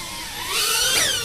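GPS-equipped drone coming in to land in strong wind, its motors whining and whirring loudly with a rising, shifting pitch, close by and steady.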